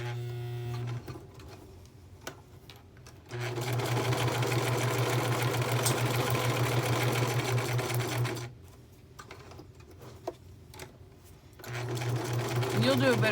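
Sewing machine stitching through a paper banner, running in two long steady bursts of fast humming needle strokes separated by a pause with faint handling and talking.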